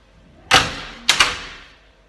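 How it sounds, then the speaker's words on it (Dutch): A door shuts with a firm thud, followed moments later by a second closing knock with a quick rattle, close by in a quiet room. "Deur dicht."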